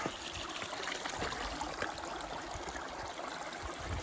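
A small woodland stream trickles among pools, a soft continuous babbling and dribbling of water heard up close with no voices.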